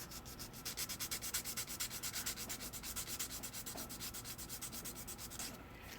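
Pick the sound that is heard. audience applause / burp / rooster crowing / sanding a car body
sanding a car body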